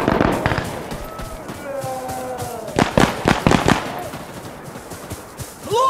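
Gunfire in the video game Insurgency Sandstorm: a cluster of sharp rapid shots and cracks up front, then a dense burst of fire in the middle, loud and close amid game sounds, with a voice speaking partway through.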